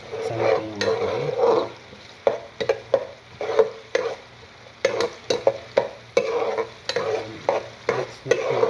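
Garlic is stirred in a pan after red onion for chicken sotanghon, with a low sizzle under repeated scraping strokes of a spatula against the pan, close and fairly loud, no voices.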